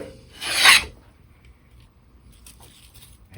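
A rabbet and chamfer hand plane is pushed over a wooden bevel, making a single short, bright rasping stroke followed by quiet handling noises.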